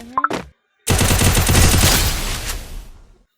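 Gunfire rings out in a Lone Wolf round of a shooting video game. After a few short clicks and a brief silence, a loud, dense burst of rapid shots fills the clip and fades over about two seconds.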